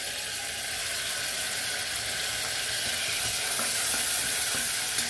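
Soy sauce and brown sugar sauce simmering in a pan at half heat, a steady soft sizzle and bubbling hiss that continues evenly throughout.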